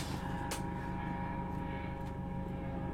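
Firefighting helicopter passing over a house to fetch water for a fire, a continuous heavy engine and rotor rumble overhead with a brief sharp noise early on.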